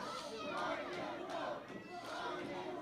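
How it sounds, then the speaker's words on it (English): A wrestling crowd in Beckley, West Virginia chants in rhythm for Rock and Roll Ricky Morton, a dense, steady roar of many voices with pulsing beats that swells and dips slightly. "The crowd coming alive with that rock and roll chant."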